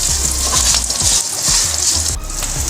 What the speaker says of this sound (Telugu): ఇది కొద్దిగా ఆనియన్స్, కొంచెం అల్లం ముక్కలు కొద్దిగా మగ్గితే సరిపోతుందండి